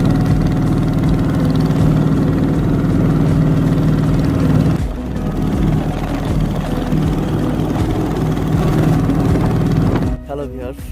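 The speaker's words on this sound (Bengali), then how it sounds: "আমরা একটা ট্রলারে করে রওনা হলাম মিনি কক্সবাজারের উদ্দেশ্যে।" A trawler's engine drones steadily and loudly on a river crossing near Chandpur, a deep, even rumble that shifts abruptly near the end.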